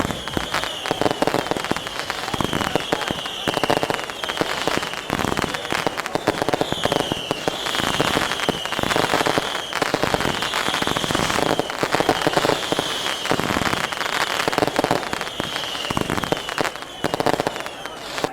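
New Year's Eve fireworks at midnight outside a village fire station, a continuous loud barrage of crackling bangs and pops, with voices talking and cheering over them.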